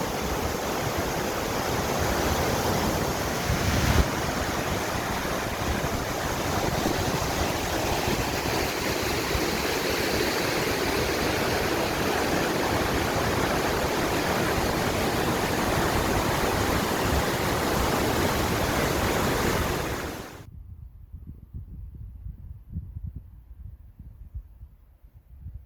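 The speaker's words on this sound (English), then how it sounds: "All right, so here's that waterfall again." Waterfall on the Pacific Crest Trail near Muir Pass, water falling over an edge: a steady, loud broadband rush of falling water for about twenty seconds, then it cuts off abruptly to quiet low rumble.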